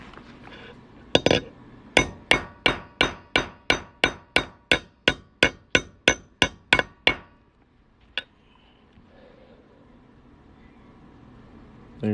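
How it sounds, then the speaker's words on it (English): A quarter being hammered into a coin ring, about fifteen sharp, evenly spaced metallic strikes ringing out close and loud, followed by quiet with a single later tap. "Hammer time."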